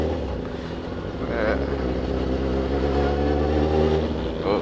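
A 2002 Suzuki GSX 1000R motorcycle engine idles and revs up nearby, a steady low rumble that swells in pitch, with someone talking over it.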